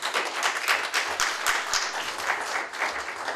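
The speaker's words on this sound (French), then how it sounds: "On va encore applaudir pour le pasteur Pierre." A church congregation gives a round of applause for the pastor, lively clapping with a rhythmic pulse filling the room.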